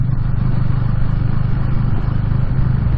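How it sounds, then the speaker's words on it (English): A single-cylinder motorcycle engine chugs steadily at low revs, a dense continuous low throb with a fast pulsing beat that stays close and loud throughout. "the bike's kind of dunk dunk dunk dunk dunk dunk. I think that's just the characteristics of a single cylinder."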